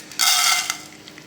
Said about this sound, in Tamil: இப்போ நம்ம எண்ணெய் காஞ்சிட்டு கடலை உப்பு அதில் சேர்த்துக்கணும்.